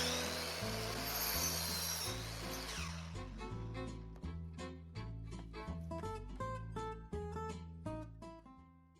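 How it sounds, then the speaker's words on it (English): A power saw cuts through a piece of wood, starting with a loud whining rush and settling into a steady, close, rhythmic droning cut that runs throughout. "I'm gonna go saw that piece now."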